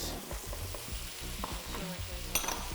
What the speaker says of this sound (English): I'm going to put in my mustard seeds, my cumin, some chilli flakes for a bit of heat